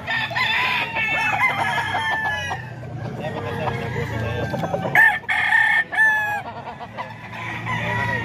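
A banded stag rooster in San Jose del Monte, Bulacan crows loudly and close, with drawn-out strained calls and a couple of sharper bursts near the end over faint background noise.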